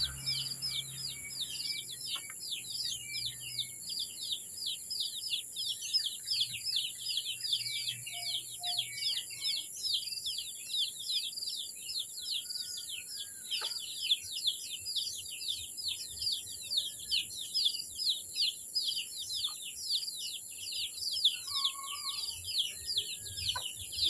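Dense, continuous high chirping of chicks in a rural farmyard, steady and fairly close, with occasional clucks from adult fowl mixed in and no talk.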